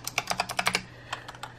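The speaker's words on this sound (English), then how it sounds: "I'm just typing like random stuff" Close-up typing on a Razer Huntsman Elite clicky mechanical keyboard, with a quick run of sharp clacky keystrokes, a brief pause, then a few more taps over a low steady hum.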